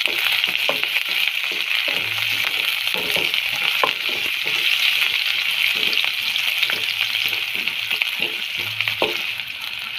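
Large sliced onion frying in hot oil, a loud, constant close-up sizzle with intermittent soft clicks and scrapes from stirring, and no talking.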